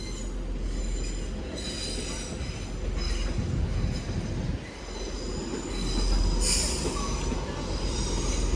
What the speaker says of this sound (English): This train is formed of 6 coaches. At the front is 185 145, connected to 185 133.